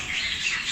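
Finches chirping in an aviary: a brief burst of bright, high twittering calls from small birds, moderately close and steady, with no voices.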